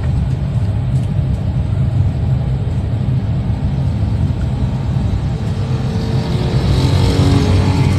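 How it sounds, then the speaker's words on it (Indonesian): A car engine rumbles steadily from inside the cabin after a shift into second gear while driving, a continuous low drone with road noise and a slight rise toward the end. "kemudian saya coba berpindah gigi 2 seperti ini."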